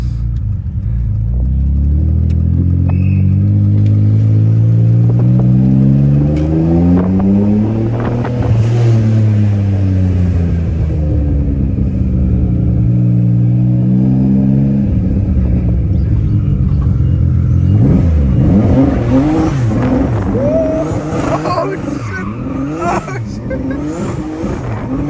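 An M3-powered BMW 325ti fitted with a screamer pipe revs hard and loud, rising and falling in repeated sweeps, then gives a burst of rapid, choppy blips near the end.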